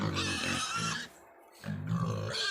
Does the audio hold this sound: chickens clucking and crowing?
no